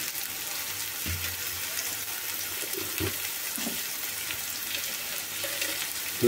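Sliced onions frying in a pan with rock salt, a soft steady sizzle with faint stirring scrapes and clinks, quiet and without talk.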